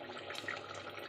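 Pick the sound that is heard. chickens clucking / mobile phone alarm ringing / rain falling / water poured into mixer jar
water poured into mixer jar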